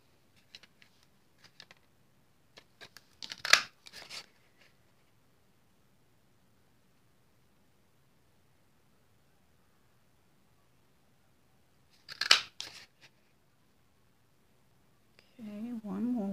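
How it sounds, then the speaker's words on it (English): A small bloom-shaped paper punch stamping pieces out of card stock for a handmade spring card, giving a few sharp crunchy clicks scattered between faint handling rustles, close and quiet, with a brief voice near the end. "let's cut these out with the little bloom punch"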